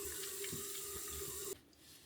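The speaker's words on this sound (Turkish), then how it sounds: "az su açacağım ama, tamam mı?" A tap runs steadily into a sink for face washing in a home, giving a close, even water rush that cuts off abruptly near the end.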